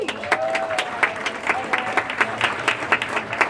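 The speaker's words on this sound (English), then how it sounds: "Let's give a big round of applause for our feature act tonight, Pauline Yasuda." A comedy club audience applauds a feature act with steady, energetic clapping that holds at an even level throughout. It is loud and sustained, with a few sharper claps standing out and no speech over it.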